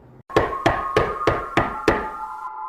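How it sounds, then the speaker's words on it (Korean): A neighbor's hand knocks on a room door at night, six firm, evenly spaced raps close by with short ringing decay. A faint hum lingers after the last knock. "이웃집 아저씨가 이렇게 소리치시며 방문을 두드리셨습니다."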